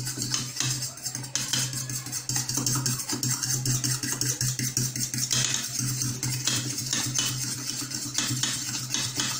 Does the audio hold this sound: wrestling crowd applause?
no